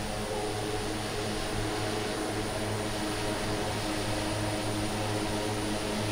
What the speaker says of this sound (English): The engine sound stays pretty much the same, it just gets quieter.